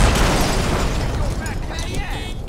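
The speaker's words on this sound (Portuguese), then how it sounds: "Som das explosões estão muito bom." A dense, loud explosion from GTA San Andreas booms and rumbles, then decays into crackling debris over a couple of seconds, close and full-bodied.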